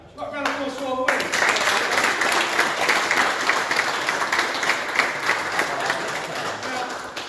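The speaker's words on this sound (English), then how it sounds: "round of applause for all the winners." A crowd at a Warhammer 40k tournament gives a round of applause for the winners, with loud, sustained clapping from many hands after a brief voice at the start.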